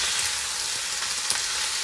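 Steady sizzling of greens stir-frying in a hot pan, a continuous crackling hiss with small pops, fairly close and with no talking.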